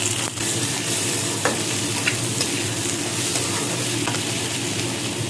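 Onions and potatoes fry in catla fish oil while being stirred with a spatula, giving a loud, steady sizzle with occasional soft scraping strokes throughout.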